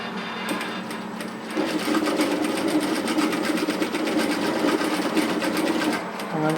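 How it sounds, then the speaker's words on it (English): A sewing machine runs steadily while stitching a seam on a tailored vest waistcoat, its fast rhythmic needle clatter close and loud after a brief quieter start, with no voices. "I'm stitching across to the side front there"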